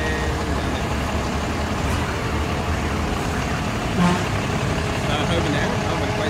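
A 2021 imported Dongfeng B180 9.15-tonne truck with a 7.7-metre bed on a test drive: a continuous broadband engine and road rumble with traffic noise and a faint horn toot, voices mixed in.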